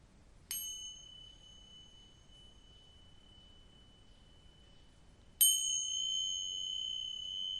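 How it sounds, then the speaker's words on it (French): A small handbell rung twice, each a bright clear ding with a long sustained ringing decay, several seconds apart in a quiet room. "Ça, c'est ma cloche magique."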